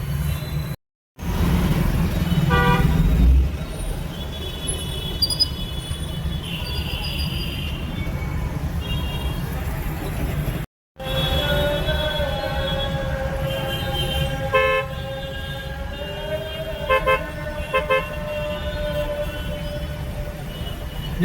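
Heavy festival-eve traffic jam near the Afzalgunj circle in Nampally, Hyderabad: a steady roar of idling and creeping vehicles, with car horns honking repeatedly, some long and some short, at varying distances.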